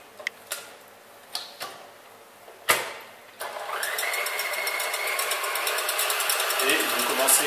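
Stand mixer starting up to beat 125 g of egg whites with 35 g of sugar in the bowl, after a few sharp clicks and knocks, then a steady whirring motor that rises slightly in pitch.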